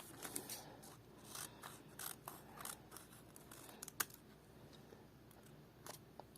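Scissors cut roughly around a paper squishy, producing quiet, close snips and crisp paper rustles in an irregular series, with no talking.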